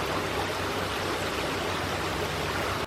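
A river flowing steadily at the meeting point of Belgium, Luxembourg and Germany gives a constant, full rushing wash of water from start to finish, close and loud, with no voices.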